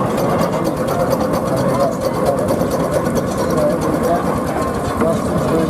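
Steam rollers run at a Gloucestershire steam extravaganza outdoors, their engines making a dense, steady mechanical chugging and clatter with fast rhythmic beats throughout, loud and nearby, with a voice speaking over it.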